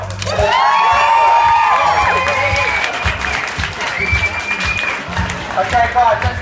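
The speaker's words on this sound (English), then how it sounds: "Can we give him a massive round of applause?" A restaurant crowd gives a big round of applause for a chili challenge contestant at Meat Mission, loud clapping mixed with cheers, whoops and shouting, with people talking and yelling over it.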